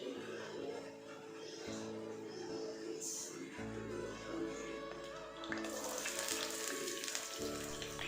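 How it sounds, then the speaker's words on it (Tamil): Mustard seeds, curry leaves, garlic, ginger, green chillies and chopped onion sauté in hot coconut oil on a new tawa, giving a steady, soft sizzle and crackle that runs without a break through the whole stretch. "ஸோ ஆயில் நல்லா காஞ்சதுக்கப்புறம் கடுகு, கருவேப்பிலை, பூண்டு, இஞ்சி, அப்புறம் 4லேருந்து 5 பச்சை மிளகா, அது கூடயே வந்து ஒரு பெரிய வெங்காயத்தை நல்லா பொடி பொடியாக நறுக்கி சேர்த்து நல்லா வதக்கி விட்டுருங்க"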